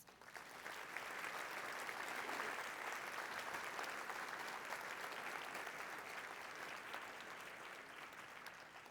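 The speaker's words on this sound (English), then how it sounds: "Let's all give them a round of applause." Sustained audience applause fills a breakfast fundraising event, a dense, steady wash of many hands clapping at even loudness throughout, with no talk over it.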